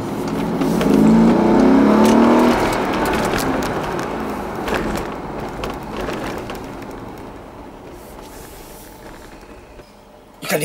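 A Mercedes G63 AMG on the move gives a loud, rushing engine and road roar that swells early and then gradually fades over several seconds.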